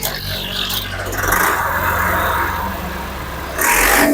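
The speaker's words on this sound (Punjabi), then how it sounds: "ਬਾਕੀ ਟਰੈਕਟਰ ਦਾ ਸਾਊਂਡ ਆਪਾਂ ਤੁਹਾਨੂੰ ਚੈੱਕ ਕਰਾਉਂਦੇ ਆ ਜੀ" ATS 290 tractor, a 2025 model, with its engine starting and running nearby, a low throbbing idle that swells into a rev, eases back, then rises sharply again near the end.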